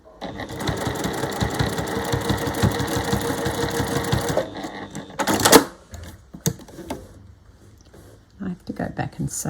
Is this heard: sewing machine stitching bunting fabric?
yes